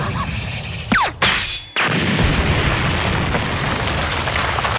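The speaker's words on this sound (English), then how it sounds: "that explosion legit was huge" A loud anime explosion boom with crashing debris cuts in sharply, followed by a brief drop, then a sustained roaring rumble that fills the rest of the clip.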